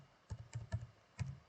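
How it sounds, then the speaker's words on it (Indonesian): Keys on a computer keyboard are struck while code is entered, four or five soft, close clicks in an uneven rhythm over a quiet room hum. "lalu kita enter, lalu kita ketik lagi"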